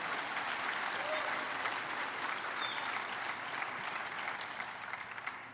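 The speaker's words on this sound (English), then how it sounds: "let's give David a round of applause" Applause from a large audience of distinguished guests at a live-streamed event, a dense, even roar of clapping sustained throughout at moderate distance.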